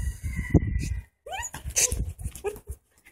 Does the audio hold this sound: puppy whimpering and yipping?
yes